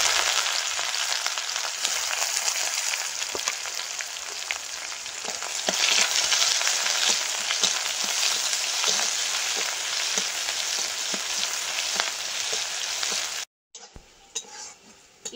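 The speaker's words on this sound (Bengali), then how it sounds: "পেঁয়াজটা লাল করে ভেজে নিয়েছি" Chopped onion frying in oil with dried red chili, bay leaf and five-spice until browned, a steady loud sizzle with spatula stirring clicks throughout, cutting off abruptly near the end.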